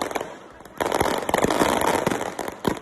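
Fireworks set off by football fans in front of a hotel in Copacabana at night, a burst of crackling pops and bangs with a busy crowd noise under it.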